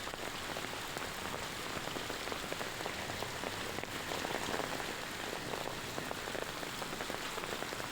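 Heavy rain pours steadily onto surfaces in a dense, continuous hiss with no pauses, evenly loud throughout, during a sudden downpour amid hot weather. No voices are heard.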